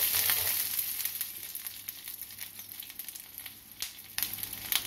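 Green chilies and curry leaves frying in oil in a pan for groundnut chutney, a quiet crackling sizzle with soft bubbling pops and occasional light taps of stirring.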